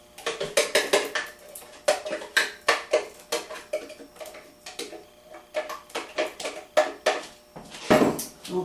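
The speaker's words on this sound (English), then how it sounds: "we're going to put our blended mixture in with the flaxseed and mix that around" A spoon mixes a blended mixture with flaxseed in a bowl, producing loud, close, rapid clinks and scrapes against the bowl in quick rhythmic bursts with short pauses between them.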